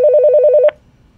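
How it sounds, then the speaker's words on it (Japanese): The dedicated telephone of a fire alarm reporting device rings in a rapid warbling electronic trill, close and loud, then cuts off abruptly into quiet. "火災通報装置の専用電話機が鳴ります"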